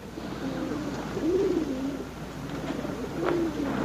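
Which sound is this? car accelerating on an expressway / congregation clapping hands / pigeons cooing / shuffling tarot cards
pigeons cooing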